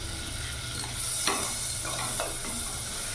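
Onion, ginger and garlic fry in butter for tomato soup, making a steady close sizzle broken by a few scraping stirs of the spoon.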